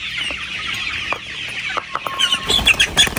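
Chickens on a poultry farm cluck in short, scattered calls at close range, growing busier and louder toward the end amid faint rustling and a brief flutter of activity.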